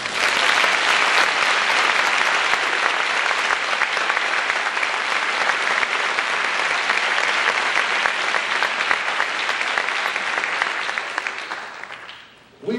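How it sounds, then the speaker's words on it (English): An audience applauds at a community speech, a dense, loud, sustained wash of clapping that holds steady for over ten seconds before fading at the close. "I believe they deserve a round of applause"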